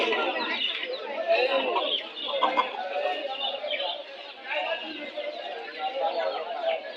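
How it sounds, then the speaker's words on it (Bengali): Crowded pigeon market in Bangladesh with many birds calling and cooing amid a dense chatter of voices and market bustle, a continuous busy wash throughout. "সব ধরনের কবুতরই পাওয়া যায় এখানে।"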